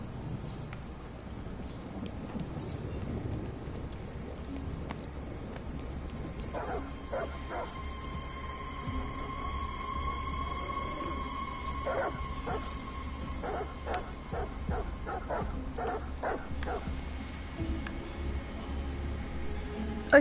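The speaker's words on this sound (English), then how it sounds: "I hear the dog." A dog barks in a game scene from Detroit: Become Human, a series of sharp barks and yips repeating at mid distance over a steady bed of rain, with a little faint talk underneath.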